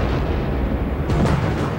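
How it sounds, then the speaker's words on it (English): A large test explosion blows up a vehicle, heard as a continuous loud roaring rumble with a burst of sharper crackling blasts near the end, no voices. "Our unit has conducted a number of tests to see what the effect of an explosion, a large explosion, is on a vehicle."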